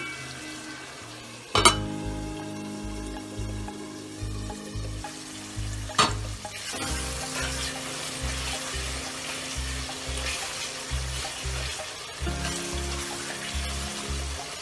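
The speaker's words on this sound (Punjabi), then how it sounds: "ਹਲੇ ਇਹਨਾਂ ਨੂੰ ਆਪਾਂ ਹੋਰ ਥੋੜਾ ਜਿਹਾ ਫਰਾਈ ਕਰਦੇ ਆ ਭੁੰਨਦੇ" Ingredients for a Punjabi curry frying in plenty of oil, a steady sizzle with stirring clatter and a few sharp utensil knocks, under a looping rhythmic music track.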